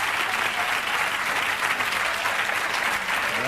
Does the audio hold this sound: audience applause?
yes